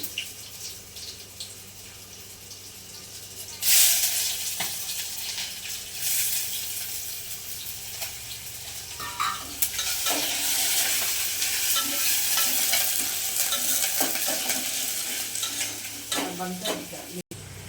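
Chicken frying in a pan with onions for a dal chicken fry, with a steady sizzle under repeated scraping stirs and occasional clinks, growing louder after a few seconds and continuing to the end.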